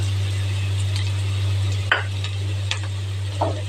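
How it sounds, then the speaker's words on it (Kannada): Ginger garlic paste sizzles and fries in a pan for a vegetable dish, a steady close frying hiss with a few brief stirring scrapes, no talking. "ಇವಾಗ ಶುಂಠಿ ಬೆಳ್ಳುಳ್ಳಿ ಪೇಸ್ಟ್ ಹಾಕ್ತಾ ಇದ್ದೀನಿ"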